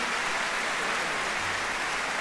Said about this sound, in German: Klatschen Sie bitte auch für sich selbst mit.